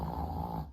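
A dog snorting or snoring, a continuous close breathy rumble lasting under a second that fades at the end.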